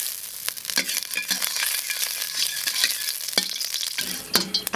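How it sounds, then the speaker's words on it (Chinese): Pork lard sizzles hard in a wok during stir-frying for egg fried rice, a steady close hiss broken by sharp scraping strokes of the spatula, with no talking. "我用猪油炒啊"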